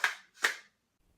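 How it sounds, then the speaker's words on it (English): Two sharp airsoft gun shots, a fraction of a second apart, fired close during a surprise ambush on a sleeping person, followed by quiet. "They're airsoft guns, and my friend's sleeping right now, so we're gonna surprise him with a nice airsoft gun ambush."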